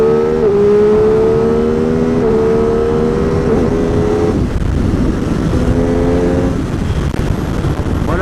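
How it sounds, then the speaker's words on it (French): An MV Agusta F3 motorcycle accelerates hard on a straight, its engine screaming loud and close as rising tones jump down with each quick quickshifter gear change, no voices over it. "ça vous fera une démonstration du shifter pour vous faire voir qu'il fonctionne vraiment bien"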